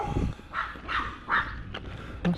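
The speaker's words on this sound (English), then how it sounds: "There's lots of dogs in Puerto Rico." Dogs in Puerto Rico bark in a quick series of four or five sharp yaps at moderate distance, with brief gaps between them and a faint outdoor background.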